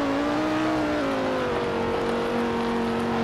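A two-seater car in a racing video game holds a loud, steady engine drone with a slight pitch dip, continuous and sustained with no talking.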